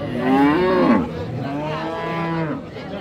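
A Friesian cow and her calves mooing close by, two long, loud, tonal lows with a falling pitch, the first stronger, heard plainly with no talk over them.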